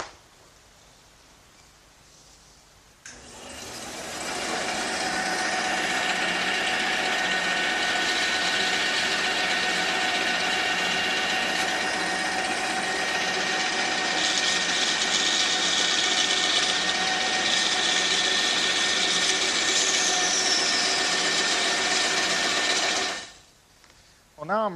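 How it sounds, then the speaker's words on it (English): A bandsaw runs loud and steady for about twenty seconds while cutting oak pieces, its mechanical whine holding constant before stopping abruptly near the end. "the first thing I'm going to do is cut these pieces on the bandsaw"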